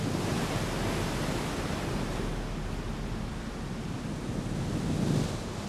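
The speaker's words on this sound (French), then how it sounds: "avec les vagues et le vent" Waves crash onto rocks on a windy Caribbean coast, a constant broadband roar of surf and gusting wind that stays loud throughout and rises in one heavier surge near the end.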